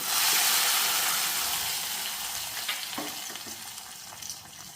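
Fried mustard seeds and chillies tipped into a taro-leaf curry, a loud close sizzle that bursts at the start and slowly settles, with a few stirring knocks and no voices.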